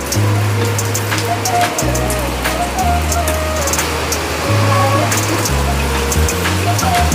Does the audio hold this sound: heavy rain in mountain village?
yes